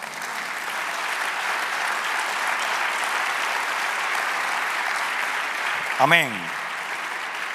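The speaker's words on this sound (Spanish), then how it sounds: "Denle un aplauso al Señor." A church congregation applauds steadily and evenly for several seconds, a dense wash of clapping, and near the end a single voice cuts in briefly over it.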